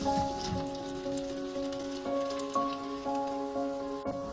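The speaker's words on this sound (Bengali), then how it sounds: "এবার গোল গোল করে কাবাবের আকার দিয়ে সামান্য তেলে এটা ভেজে নেব।" Tuna fish kebabs fry in a little oil, giving a steady fine sizzle and crackle like light rain, heard alongside sustained tonal humming music.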